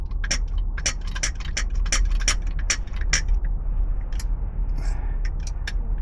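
Ratcheting hand crimping tool clamping down on a heavy battery cable terminal during RV battery wiring, giving a steady run of sharp rhythmic clicks, close and clear, with no one talking.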